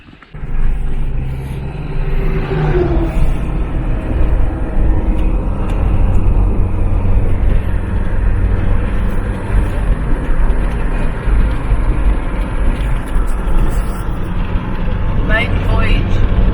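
An old car sets out on its maiden voyage, its engine a loud, steady, close rumble with road noise throughout, and a person talks over it.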